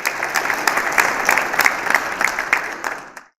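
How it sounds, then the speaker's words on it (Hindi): An audience at an Indian Republic Day mushaira applauds as a poet from Lucknow is welcomed, bright, slightly uneven clapping with individual claps standing out, which swells briefly and then cuts off abruptly. "बहुत सारी तालियों में।"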